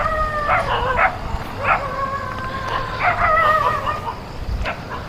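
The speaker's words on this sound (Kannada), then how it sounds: "ನಾಯಿಗಳೆಲ್ಲ ತುಂಬ ಇದಾವೆ" Several dogs bark and howl outdoors near a lake or park in the evening, with tonal howls and yips rising and falling over steady background ambience.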